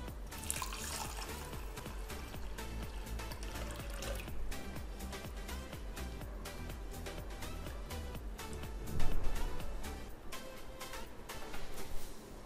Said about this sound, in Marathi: आता पाव कप मुगाची डाळ 2 पाण्याने स्वच्छ धुवूया।